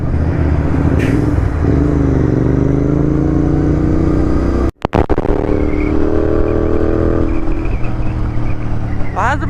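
Loud engine roar of sport motorcycles including a BMW S1000RR and a Kawasaki ZX-10R on a Sunday group ride, revs rising and falling as bikes pass close by, with a brief wind-buffeted gap midway.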